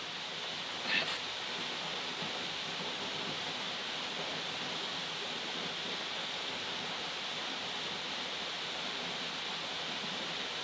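The waterfall at Waterfall Gully gives a constant, even rush of falling water, a steady hiss that fills the whole stretch, with one faint tap early on.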